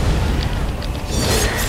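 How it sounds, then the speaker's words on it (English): A loud, rumbling blast in a tank video game, a broad low boom that trails into a hissing, crackling tail near the end. "Throw away because it's gonna explode"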